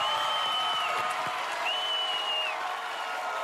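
Studio audience at a game-show taping cheers and applauds in a steady, dense wash of clapping and crowd noise, with a whistle-like tone running over it.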